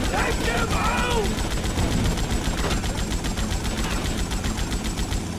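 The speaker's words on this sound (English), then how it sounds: "Being shot with big guns." Heavy gunfire from big guns in GTA: Vice City, a steady rapid rattle of shots running throughout without pause, close and loud over other game noise.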